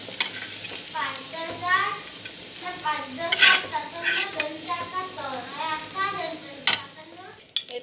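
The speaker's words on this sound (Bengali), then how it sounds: "এদিকে আমার পেঁয়াজ ভাজা চলছে মোটামুটি" Sliced onions sizzle in hot oil in a home kitchen while being fried for biryani, a steady hiss with stirring clatter underneath, and voices talking over it throughout.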